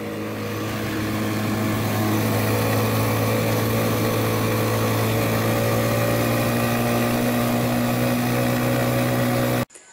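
Motor tricycle engine droning steadily and loudly on a steep mountain road to Batad in the Philippines, a constant near hum with strong low harmonics that cuts off abruptly at the end.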